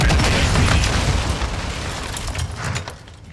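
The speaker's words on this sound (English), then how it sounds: "I threw a grenade by accident" Grenade blast in Call of Duty: Modern Warfare II, a loud broadband boom with rumbling debris that fades over a few seconds, close and alone.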